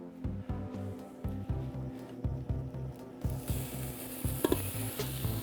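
Beef browning in olive oil in a hot pan for stew, with steady sizzling and repeated scraping strokes of a spoon stirring the meat, close and clear with no talking.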